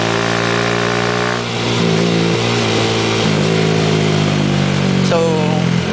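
A motor tricycle's engine runs steadily on a road near Sitio Bulangkog, Calintaan, Occidental Mindoro, at sunset, with a droning mid-pitched tone that rises and revs as it nears, then shifts pitch toward the end.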